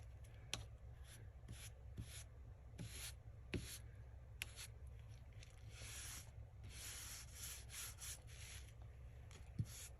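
Close, soft rubbing and dabbing of a gold ink stamp pad onto paper while crafting, irregular scuffing strokes with occasional light taps over a low steady hum, no talk.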